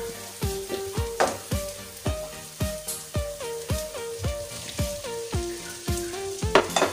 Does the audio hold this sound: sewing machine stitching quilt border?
no